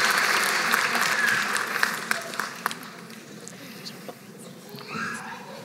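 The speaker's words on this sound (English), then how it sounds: "Let's have a big round of applause for the nursing unit clerks, May 2021" A graduation ceremony audience at Stenberg College claps for the graduating nursing unit clerks, a dense burst that fades over a few seconds into scattered claps, with voices and a child's cry audible underneath.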